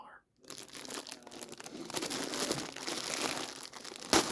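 Close, continuous crinkling and rustling of plastic packaging as plush toys are unboxed, with a sharp crackle near the end.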